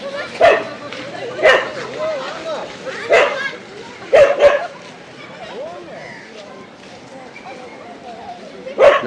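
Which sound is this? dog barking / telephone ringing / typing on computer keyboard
dog barking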